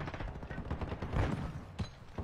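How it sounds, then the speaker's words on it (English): Rapid gunfire in a Call of Duty match, a quick burst of faint, distant-sounding shots in a tight rhythm with one sharper crack near the end. "Oh, he sniped me through the wall."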